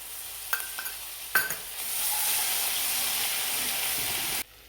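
Mustard seeds, cumin and turmeric crackling in hot oil for cheese pav bhaji, a few sharp pops and clinks followed by a sustained loud hissing sizzle that cuts off near the end.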